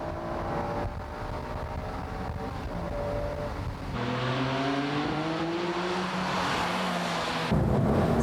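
Race cars, Tsuchiya's Honda NSX and a Porsche, run at Tsukuba Circuit in 1995 with engines revving and shifting in rising, falling tones. The engines swell louder as the cars pass close by.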